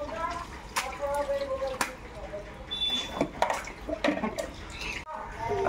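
Children splash and play with water at home on a birthday morning, a steady wash of sloshing and dripping with sharp slaps, while voices talk over it throughout.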